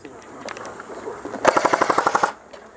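An airsoft gun fires one rapid full-auto burst of about a dozen sharp, evenly spaced cracks lasting under a second, following quieter scattered shots and outdoor ambience.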